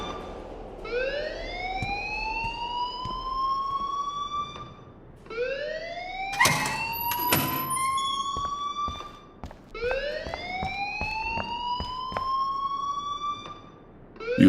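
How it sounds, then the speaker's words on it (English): A rising and falling siren-like alarm wails in the school setting of the Life Is Strange video game, repeating in three long sweeping cycles, loud and steady, with a brief burst of other noise between the cycles. "please turn off that alarm since that's your job"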